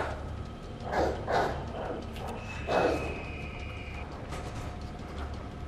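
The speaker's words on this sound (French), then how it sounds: "Le chien là, je l'entends à droite" A dog barking in the Resident Evil Remake video game: three gruff barks, two close together then one more, sounding somewhat distant over a low ambient drone.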